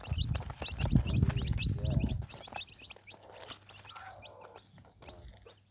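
Chickens cluck and chicks peep in quick, scattered calls, loud and busy at first, then thinner and quieter toward the end.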